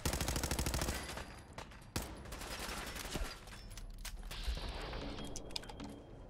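Dense, rapid gunfire from a wasteland video game fills the opening, followed by a few sharp single shots and mechanical clatter, loud and close.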